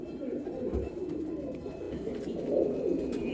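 Golden eye pigeons give soft, low cooing nearby, steady and continuous against a light background murmur, with no talk over it.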